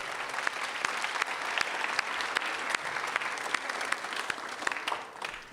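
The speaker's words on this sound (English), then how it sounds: "Let's give Mayor Bowser a round of applause as well." Guests at a library ribbon-cutting ceremony clap for Mayor Bowser, a steady, crisp round of applause from a modest crowd that carries on for several seconds before tapering off.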